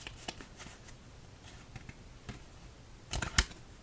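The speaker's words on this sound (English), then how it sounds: "as we shuffle up for game number 1" A deck of playing cards gets shuffled at a table, with soft scattered riffles that build into a louder burst of card flutter near the end.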